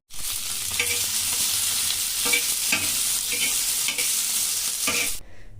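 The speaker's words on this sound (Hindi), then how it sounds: "और ये वाला जो आलू है इसको मैं फ्राई करूंगी" Potatoes fry in a pan with a loud, steady sizzle, broken by repeated scraping stirs of a spatula, then the sound cuts off abruptly near the end.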